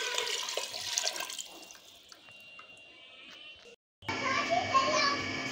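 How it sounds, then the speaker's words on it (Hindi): Half a kilo of water is poured into a pot of beef and pumpkin curry, a loud, rushing splash that starts abruptly after a brief silence, with busy background noise before it. "अब मैं डालूंगी इसमें 1/2 किलो पानी।"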